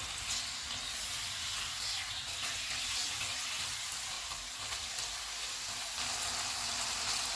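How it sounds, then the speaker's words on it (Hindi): Marinated chicken frying in hot oil, a loud, continuous hissing sizzle that holds steady throughout, close up with no voices. "ऑयल गर्म हो गया, इसमें मैरिनेटेड चिकन डालेंगे।"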